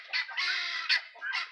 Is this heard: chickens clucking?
yes